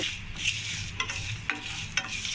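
Ground masala spices fry in a pan and are stirred, a soft steady sizzle broken by several sharp scrapes of the spoon about every half second.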